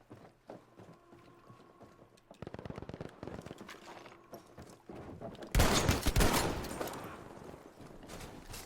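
Video game gunfire, rapid bursts of hip-fired shots that get louder toward the end and crackle loudly near the close, with no voice over them.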